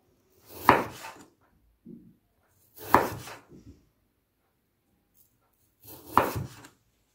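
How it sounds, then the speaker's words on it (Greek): Peeled potatoes being cut into thin slices with a knife on a board, three distinct chopping strokes spaced a couple of seconds apart, close and crisp with quiet gaps between. "Τις κόβουμε σε λεπτές φέτες."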